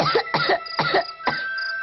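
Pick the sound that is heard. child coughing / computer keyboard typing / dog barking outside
child coughing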